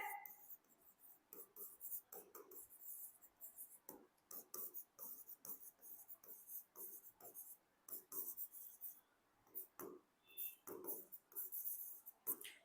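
Writing on a board or paper, with quick scratchy strokes in irregular bursts across the whole stretch, fairly faint and close, and soft breathing between them.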